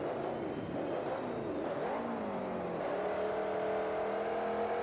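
Front-engined monster truck in a stadium round at Anaheim, California, revving hard through a backflip into a wheelie, its engine whining and surging in pitch, loud and continuous with crowd-like roar underneath.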